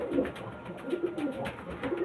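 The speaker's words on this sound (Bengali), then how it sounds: "ফুলশিরা পায়রা" Fulshira pigeons at a pigeon sale in Titagarh Mondolpara give soft, repeated throaty coos in a steady stream, close and moderately loud, with no talk over them.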